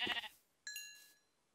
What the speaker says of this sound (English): Oh, I got a sheep.